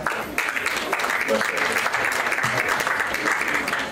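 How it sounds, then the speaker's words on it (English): Audience applause after an evening presentation at the Rastafari RootzFest, a steady dense clapping wash sustained throughout, with some voices mingled in. "we want you to give him a big round of applause for his presentation this evening"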